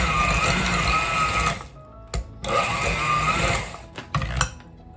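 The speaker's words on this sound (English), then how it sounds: "Let's give it just a quick blend just to spread it out a little bit." An electric hand mixer whirs loudly through cream cheese in a steady motorized drone, cuts off briefly, then runs again in short bursts with some clattering between them.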